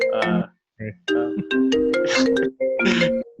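A phone ringtone plays loud and close, a bright melodic electronic tune in short repeated phrases with brief gaps, sounding alone during a podcast conversation.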